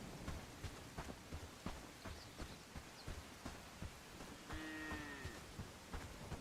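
A cow in the Bellwright video game lets out a single drawn-out moo partway through, heard over steady thudding footsteps.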